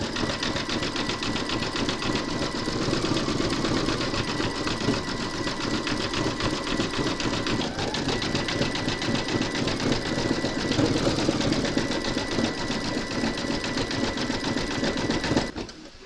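An embroidery machine stitches an outline on fabric for a gingerbread house design, running green thread. Its rapid, even needle chatter carries on steadily and close-up for the whole stretch, then cuts off abruptly at the end.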